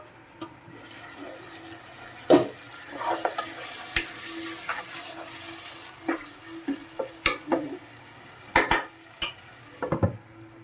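Chicken biryani fry is stirred in a pot, close scraping and clanking spoon strokes repeating irregularly over a low continuous sizzle.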